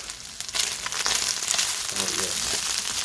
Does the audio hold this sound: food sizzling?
yes